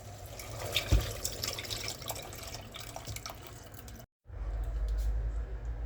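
Chicken wing broth is poured out of a pot in a home kitchen, a steady close liquid splash and trickle with one sharp knock, a brief break, then a heavier continuous pour.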